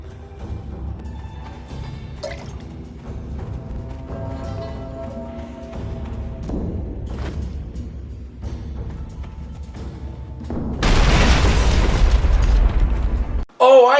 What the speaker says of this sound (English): It sure looks like that plunger's supposed to do something, like blow up the artillery piece